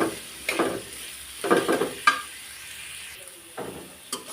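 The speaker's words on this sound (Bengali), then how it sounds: "পেঁয়াজটা আমি এইভাবে ভাজি করে নিলাম" Onions frying with turmeric in a pan, heard as a steady soft sizzle broken by several scraping stirs of the spoon. The bursts come irregularly and sound close, with no talking.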